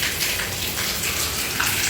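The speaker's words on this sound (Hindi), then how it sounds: "ये बारिश देखो" Rain falls steadily around a park during a morning walk, a constant hissing patter with small splashes, fairly close and unbroken, with no talk.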